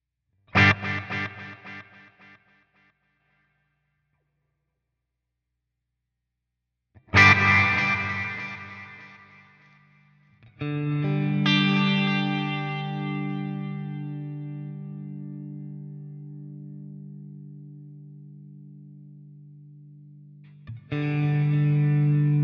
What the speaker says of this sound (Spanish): voy a poner una reverb rápidamente como para tener un efecto rápido para poderles mostrar